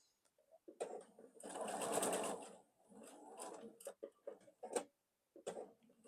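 Sewing machine stitching quilt block triangles, short whirring runs of stitching with a longer burst in the middle, separated by pauses and small clicks, close and clear.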